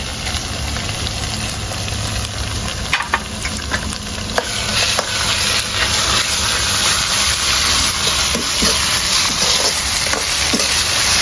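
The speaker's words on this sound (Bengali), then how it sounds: "আদা রসুনটা একটু ভেজে নিয়েছি, এখন দিয়ে দিব জিরে বাটা।" Ginger and garlic fry in a pan as cumin paste is added, producing a steady, close sizzle broken by scraping stirs and a few sharp clinks of a utensil.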